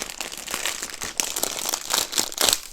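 Continuous crinkling and rustling of a thin plastic bag holding a diamond painting kit being opened, with sharper crackles bunching up now and then, close to the microphone and fairly loud.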